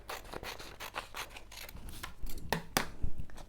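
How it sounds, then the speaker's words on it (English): Scissors snip through a square of paper being trimmed for an origami star, a run of close, dry rasping cuts that grows slightly louder toward the end, with no talking. "So we cut it right up to the triangle"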